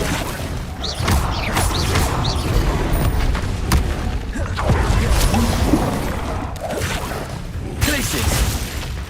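Spell blasts such as Confringo erupt in Hogwarts Legacy combat, a string of booms, crashes and shattering impacts over a busy game soundscape, with a player's voice calling out incantations throughout.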